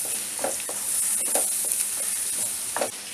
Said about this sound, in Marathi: आता वाटलेलं जे कांदा लसूण खोबरं आहे ते आता आपण हे फोडणीला द्यायचं आहे.